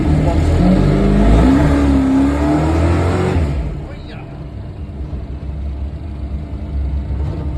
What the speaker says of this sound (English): It's just a little tap on the throttle and she just churns them up like it's on ice.